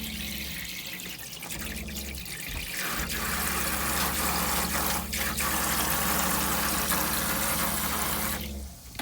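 Water runs steadily through the cold line of a NuCamp Tab 400 camper during dewinterizing, a loud, continuous rushing flow that cuts off near the end.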